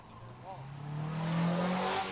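A little red Mazda Miata race car with a removable hard top accelerates on a drag strip during a Sunday test and tune session. Its engine note climbs steadily and grows louder as it pulls away.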